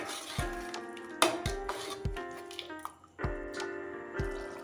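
Spices for mutton biryani stirred in a pan, with repeated scraping strokes of a spoon against metal and a soft sizzle underneath, close and steady, pausing briefly between strokes.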